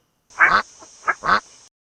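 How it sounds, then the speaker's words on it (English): A duck quacks three times close up, two full nasal quacks with a short softer one between them, clear and isolated against a quiet background. "the duck,"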